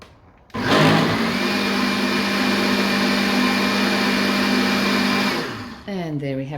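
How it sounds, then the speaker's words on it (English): A blender whirs loudly and steadily through coconut pie filling for several seconds with a constant motor drone, then winds down and stops, followed by a voice speaking. "And we'll blend that one more time."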